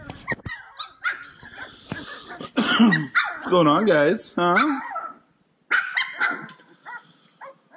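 Several puppies yip, bark and growl in short, high bursts close by, while a person talks to them between the barks.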